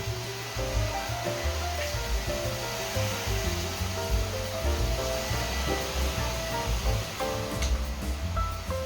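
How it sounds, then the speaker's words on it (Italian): A household vacuum cleaner drones steadily and loudly from start to finish as it cleans a room, a continuous whooshing motor hum with no pauses and no voices over it. "passo l'aspirapolvere per un risultato migliore"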